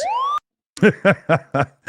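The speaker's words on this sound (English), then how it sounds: "That's the Stephen Walsh alarm when he does those big super chats." A siren-style alarm sound effect played to mark a big super chat during a Ukraine update livestream: a loud rising electronic wail for under half a second, then a pause and four evenly spaced pulsing honks.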